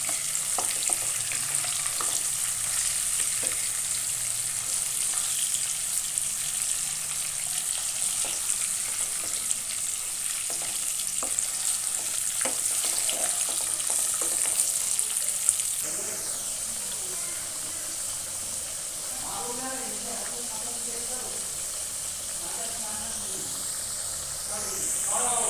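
Potatoes fry in a generous amount of hot oil, giving a steady, close sizzling hiss that runs the whole way, with stirring clinks and a brief change partway through, and a voice faintly in the background later.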